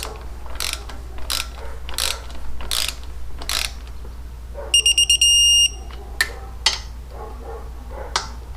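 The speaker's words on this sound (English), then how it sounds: "Tighten banjo bolts to 5" Ratchet clicking in quick bursts while tightening banjo bolts on a Big Sucker air cleaner for a 2006 Harley Ultra Classic motorcycle; several close, crisp rattling runs separated by pauses, plus a few sharp metallic ticks.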